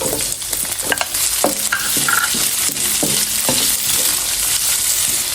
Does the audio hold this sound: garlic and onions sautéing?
yes